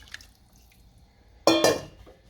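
Chicken broth poured back into a soup pot, a short splashy gush of liquid in two close bursts about a second long, fairly near and louder than the quiet kitchen background.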